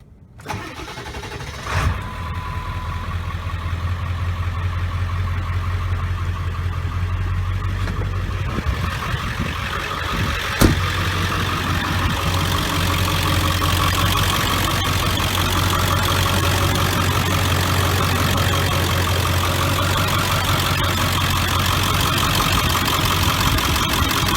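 A 2001 Ford F250 Super Duty with the 7.3 diesel cranks briefly, fires up and settles into a steady, rumbling idle that carries on evenly and close by.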